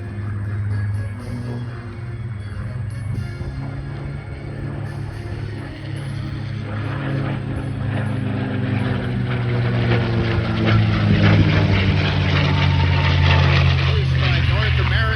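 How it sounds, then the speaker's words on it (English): A WWII P-51 Mustang makes a high-speed topside pass at an airshow, its propeller engine roar swelling steadily louder as it approaches, with crowd and announcer talk running underneath. "he's coming in from the right in another high-speed topside pass."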